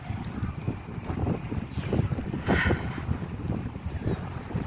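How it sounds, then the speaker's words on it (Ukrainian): Strong wind buffets the microphone in uneven gusts, producing low rumbling bursts that swell and fade over a few seconds. "але дуже сильний вітер."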